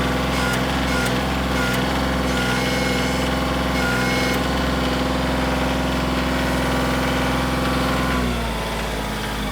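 A tractor engine runs steadily at raised throttle, a loud, close, continuous drone with a strong low hum that eases off slightly near the end.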